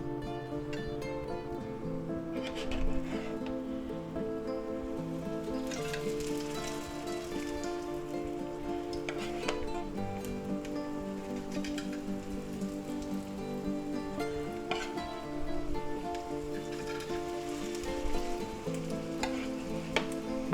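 Tuna patties fry in a hot pan with a dense, steady crackling sizzle that runs unbroken throughout, close and fairly loud, with occasional sharper pops and no talking.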